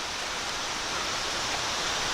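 A waterfall at a reservoir dam on the Union Canal, heard as a steady, broad rushing roar of falling water that stays constant throughout, with no voices over it.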